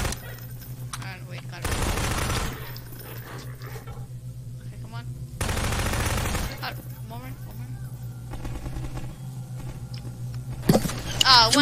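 Bursts of gunfire in Half-Life 2 played in Garry's Mod co-op, loud clustered volleys at roughly two-second and six-second marks with a short burst near the end, under a steady game hum and some talk.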